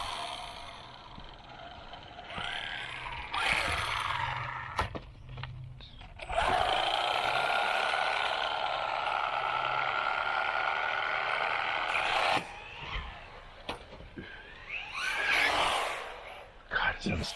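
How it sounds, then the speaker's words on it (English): Grinding from the drivetrain of a Rlaarlo AMX-12 RC car with a faulty drive cup, a loud rasping whine that rises and falls in long stretches, with voices talking over it. "It's like something's actually grinding in there."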